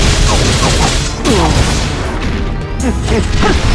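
Fire spell attacks from the fighting game Dissidia Final Fantasy, with dense bursting blasts, crashes and whooshing effects layered over game music and character voice shouts throughout.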